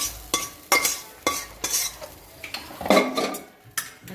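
Cooked tomato and onion masala is scraped from a pan onto a plate, making a series of sharp metal spoon scrapes and knocks against cookware in an even rhythm, close and alone.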